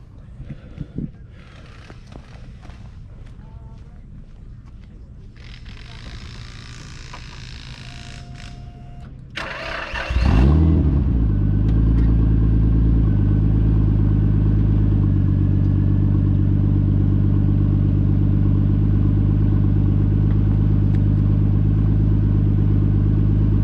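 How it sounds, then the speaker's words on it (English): A 400 hp Nissan Skyline R33 four-door drift car cranks and fires up around the midpoint, then settles into a loud, steady idle with a strong low rumble, following quieter cabin noises and brief clicks beforehand. "So we'll just going to start the car up"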